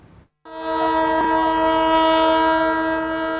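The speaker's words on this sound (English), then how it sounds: "One of the 18 commuter trains dispatched by the Kenya Railways Corporation arriving at Mutindwa, Nairobi County to pick passengers." A Kenya Railways commuter train pulls into Mutindwa station in Nairobi County, its loud sustained horn blaring steadily over the rumble of the cars after a brief quiet start.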